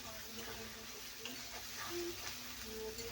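Shrimp frying in a pan with turmeric, giving a steady soft sizzle and crackle with faint stirring, low and continuous throughout.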